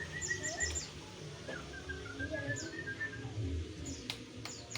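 Chirps and short tweets from a tame kutilang (sooty-headed bulbul) let out of its cage, repeated bright calls over a steady outdoor background, fairly close, with no talking.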